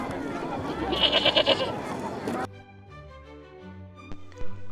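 A goat bleats in a cluster of wavering cries for about two seconds, loud and close, followed by soft background music.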